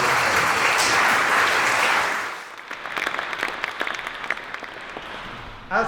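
A gala dinner crowd claps loudly together, then the applause thins into scattered, separate claps before one last clap.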